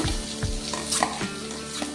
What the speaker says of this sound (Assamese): এইফালে তেজপাত দিছে পিঁয়াজখিনি দি দিছে